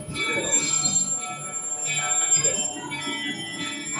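A Magic Kingdom train pulling into Fantasyland Station, with high metallic wheel squeals and brake ringing over a soft rolling rumble, moderately close.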